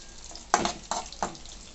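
Snake gourd pieces coated in masala fry in hot oil, giving three short sizzling bursts as they are stirred, close and moderately loud over a faint background hiss.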